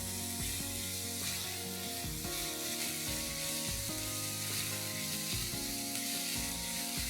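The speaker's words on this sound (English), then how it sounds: "Saute these onions till they're nice and pink." Finely chopped onions sauté in a pan for a dal, giving a steady, soft sizzle and hiss throughout, with a faint background of music and no talk.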